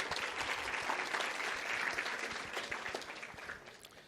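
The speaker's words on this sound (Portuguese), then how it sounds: "Se puderem aplaudir o Zé Luiz, por favor." Dense, steady applause from a lecture audience for a guest named Zé Luiz, filling the room evenly and tapering slightly toward the end, with no voices on top.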